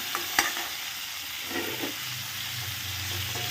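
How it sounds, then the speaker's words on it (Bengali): Ingredients for garlic coriander peas paneer fry lightly in a pan, giving a steady, close sizzle with soft stirring scrapes and a brief clink near the start. "দেওয়ার পর জাস্ট হালকা হাতে 2 থেকে 3 মিনিটের মতো একটু হালকা ভেজে নিতে হবে"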